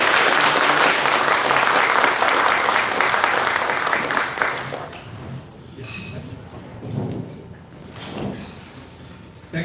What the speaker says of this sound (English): please join me in giving a warm round of applause to our esteemed speaker, Professor Zhou